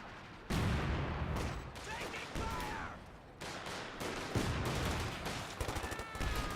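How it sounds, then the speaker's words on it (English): Artillery barrage in Company of Heroes 2, dense booming impacts and gunfire rolling on continuously, with a commentator speaking over the battle. "Going for a barrage on this guy here."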